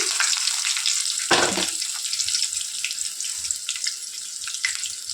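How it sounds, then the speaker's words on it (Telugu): Finely chopped onions hit hot oil already holding mustard seeds, cumin, chana dal and curry leaves on a gas stove, with a sudden louder burst of sizzling followed by a steady close crackling hiss. "ఇక ఇందులోనే సన్నగా కట్ చేసి పెట్టిన ఆనియన్స్ కూడా వేసేయాలి"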